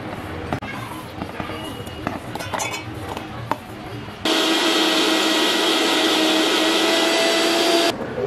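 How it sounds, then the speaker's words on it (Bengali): A mixer grinder grinding cashews and poppy seeds into a paste kicks in after some kitchen clinks and clatter, then runs as a loud, steady, high whirring roar for several seconds before cutting off abruptly. "কাজু ও পোস্তকে আমি গ্রাইন্ড করে দেবা"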